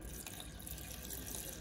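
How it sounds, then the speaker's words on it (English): Water poured into a scooped-out bael fruit shell, a brief continuous splashing trickle, close and steady. "You scoop it out and then pour some water."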